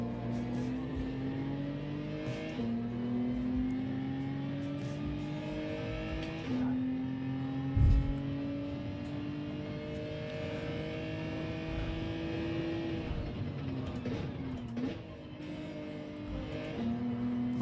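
Race car engine in the Gran Turismo racing game, a steady droning roar that climbs in pitch through each gear, drops sharply at the shifts and revs up again, continuous and fairly quiet.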